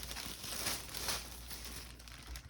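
Plastic crinkles and rustles up close in a pottery workshop during ceramic lighthouse making, a soft irregular crackling over a few seconds with no voice.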